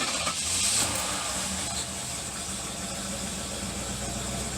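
A V8 car engine that was primed with several pumps of the gas pedal runs at a steady, rumbling idle, close and continuous throughout with no talk over it.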